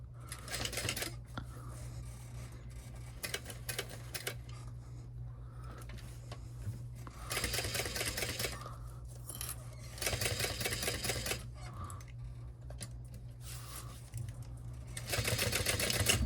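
Sewing machine running a short back stitch through fabric, with close bursts of rapid mechanical whirring that stop and start several times, separated by brief quiet pauses.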